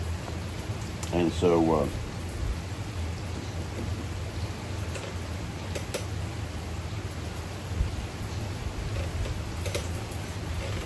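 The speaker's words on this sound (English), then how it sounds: "just watch the rain. You can probably hear it." Rain falling outside, a soft continuous hiss with scattered drips and ticks at moderate level, briefly overlaid by a voice near the start.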